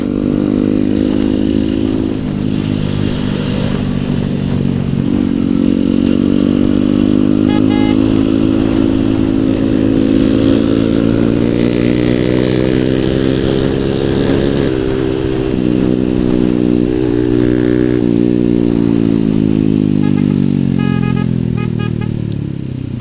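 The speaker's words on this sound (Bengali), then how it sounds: "আর ওয়ান ফাইভের ডেটোনার এক্সস লাগিয়ে জাস্ট এমন একটা সাউন্ড ক্রিয়েট রয়েছে" A Yamaha R15 motorcycle fitted with a Daytona exhaust drones loudly and steadily while riding, its engine note rising and falling gently as it holds speed close by for the whole stretch.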